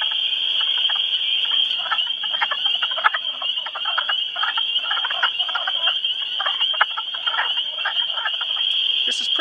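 A dense, loud chorus of frogs calling from spring vernal pools, one steady high trill running unbroken through the whole stretch, with no voices over it.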